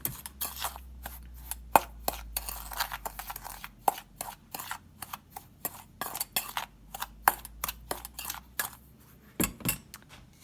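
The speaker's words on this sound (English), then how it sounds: "So I'll stir this together until it's combined, until you don't see chunks of flour and spots of cinnamon." A spoon scrapes and taps around a bowl while batter of flour and cinnamon is stirred together, with irregular close clinks and knocks over a quiet kitchen background.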